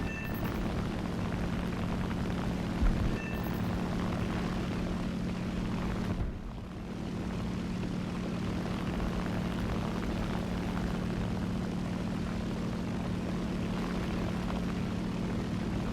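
Steady droning propeller engine of a P-47 fighter plane in War Thunder, a continuous loud hum with a low tonal buzz that dips briefly midway, no talking.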